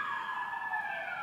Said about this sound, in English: listen to that siren